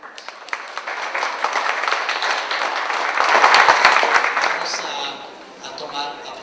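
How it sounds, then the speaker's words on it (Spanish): Applause from a conference audience welcoming a scientist to the stage, building to a peak midway then tapering off, moderately loud with some voices mixed in. "vamos a recibirla con un aplauso"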